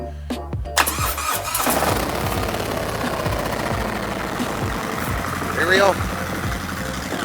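A 2017 Harley-Davidson Road Glide FLTRXS motorcycle engine cranks and catches, then settles into a loud, steady, lumpy idle close by, with someone speaking briefly over it.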